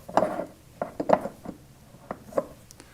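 A screw cap is tightened by hand onto a pressure myograph bottle, heard as several close, brief scraping and ratcheting twists in quick bursts.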